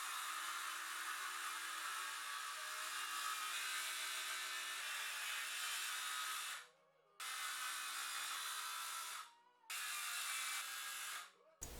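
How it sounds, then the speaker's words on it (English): A circular saw running on an edge guide cuts a sink opening in a countertop, a loud steady whine that drops out briefly twice as the cut pauses, then resumes. "I use my circular saw on the edge guide to cut out the majority of the opening"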